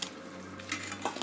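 Crushed whole spices for chicken biryani, such as cloves, black pepper, mace and nutmeg, are mixed in a bowl, giving a few light clinks and scraping taps near the end of a short, quiet stretch.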